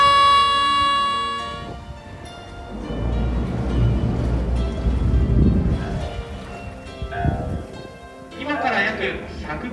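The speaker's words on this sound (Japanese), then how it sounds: "安全のためホーンを鳴らしていきます。" A canal cruise boat on the Otaru Canal sounds its horn, a loud sustained tonal blast at the start, followed by rumbling engine and water noise with a voice talking over it.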